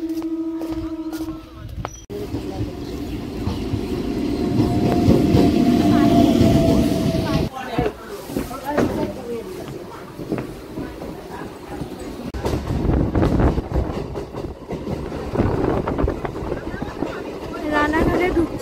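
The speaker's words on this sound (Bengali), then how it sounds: "রানাঘাটে বনগা লোকালটা ঢুকলো" Bongaon local train pulling into Ranaghat station, a rumbling rolling clatter with a brief horn tone, wind buffeting the microphone and people talking nearby.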